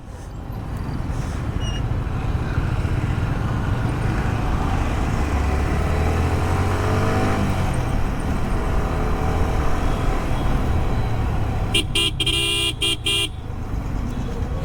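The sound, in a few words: car engine driving in Delhi traffic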